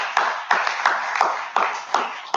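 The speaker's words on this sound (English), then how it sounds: "Let's give a round of applause for our youth." A small group claps in a slow, steady rhythm, about two claps per second, for the youth at a church gathering. The clapping is loud and close, with a faint murmur underneath.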